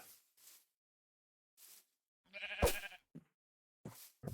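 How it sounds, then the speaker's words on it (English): A single sheep bleat in a Minecraft-style survival game sounds clearly in the middle, surrounded by short, faint bursts of other noise and stretches of silence. "I hear sheep."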